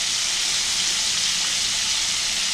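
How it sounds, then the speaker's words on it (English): Cut sirloin tip steak sizzles in a hot pan for steak and cheese hoagies, a loud, continuous bright hiss of frying with no talking. "You want to hear that sizzle."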